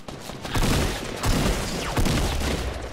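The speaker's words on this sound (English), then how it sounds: "I might try and shoot him with a sniper." Sniper rifle gunshots in the battle royale game Fortnite, a few loud, sharp reports roughly a second apart standing out against a constant din of game noise.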